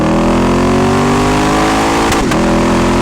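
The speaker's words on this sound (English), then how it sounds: "it comes with the incredible 5-liter V8 engine" A 2012 Lexus IS F's 5-liter V8 revs steadily with a deep, rumbling growl, its pitch climbing and then blipping sharply near the end.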